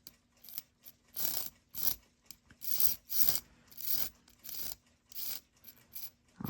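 A 1950s Westclox Spur alarm clock with an aluminum movement unwinds in quick, uneven bursts of metallic clicking and buzzing rasps, a faint close-up sound in a quiet room.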